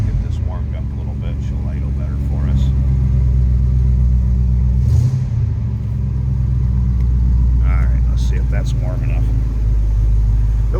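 A 1966 Chevrolet Bel Air four-door wagon engine warms up with a steady low rumble from inside the car. Brief speech and small clicks come over the constant idle.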